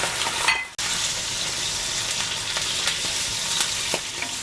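Olive oil frying in a pan as vegetables for a chicken liver dish begin to cook, a steady close hiss and crackle that runs on with faint stirring scrapes and one brief drop in the sound near the start.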